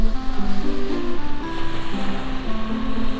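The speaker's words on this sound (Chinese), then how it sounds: "给大家清楚的看一下这个海边。" Ocean waves breaking on the beach at Pulau Redang, a steady loud wash of surf with wind buffeting the microphone and a low boat-like drone, no one speaking.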